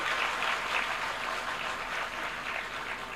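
An audience at a spoken talk on married life claps in a steady, dense patter that holds throughout at moderate loudness, with no speech over it.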